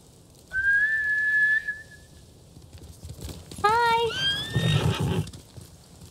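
Horses in the game Ghost of Tsushima: a long whinny, then a second neigh with a rising, wavering call, with hoofbeats and rustling underneath. The sounds are fairly close and clear against quiet ambience.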